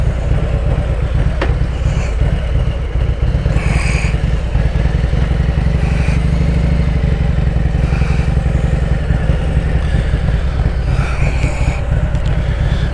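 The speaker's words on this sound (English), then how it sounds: "the exhaust is slightly louder and deeper, no question. This bike is a lot louder now." A Harley-Davidson M8 motorcycle with a cam upgrade and louder, deeper exhaust rumbles steadily up close, a continuous heavy throb with faint clatter and slight swells in pitch.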